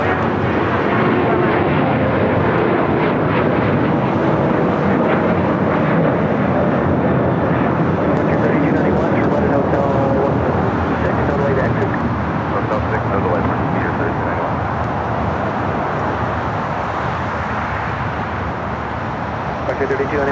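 An Alaska Airlines Boeing 737-800 jet bound for Seattle roars at LAX, a loud, sustained broadband engine rush that holds steady and eases slightly toward the end, with no one speaking.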